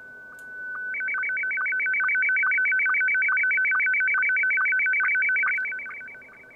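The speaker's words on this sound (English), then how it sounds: "This is what a slow scan audio modulation sounds like." Slow scan television (SSTV) audio received on a radio: after a brief steady tone, a loud stream of rapidly alternating electronic beeps runs in a regular, fast warble for several seconds, then fades.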